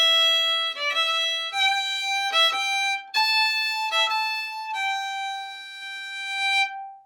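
A solo violin plays a short, simple phrase from the Scottish march Fingal's Cave, clear bowed notes, some quick repeated ones, ending on a long sustained tone.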